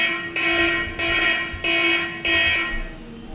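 A phone anti-theft alarm app sounds, giving four evenly spaced, shrill electronic blasts with short gaps between them, loud and close with no talking.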